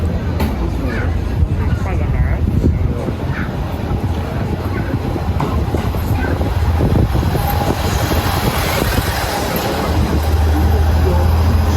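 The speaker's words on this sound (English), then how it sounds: "Train is approaching." A long-haul train pulls into a Japanese station platform, its loud rumble and rolling wheel noise filling the whole span, with platform announcements and crowd murmur underneath.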